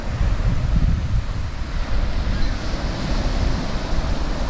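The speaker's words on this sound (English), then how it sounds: "It's quite windy, but the drone handles it pretty well." Strong wind buffeting the microphone on a New Zealand coast, a continuous loud low rumble with surf-like wash and no speech.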